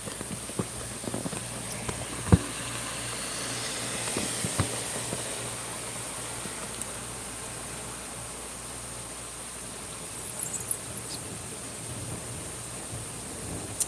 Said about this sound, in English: Look at that rain.